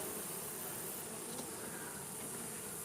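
A dense, steady hum of many honeybees buzzing close by in an opened hive's bottom brood chamber, continuous and fairly loud, with no voices.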